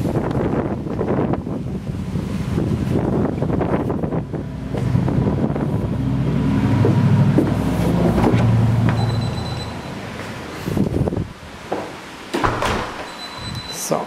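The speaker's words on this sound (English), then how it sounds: "it's really windy here" Strong wind outdoors at a property in Naples, Florida buffets the microphone with a loud, continuous rumbling roar that eases off toward the end, where a few faint knocks are heard.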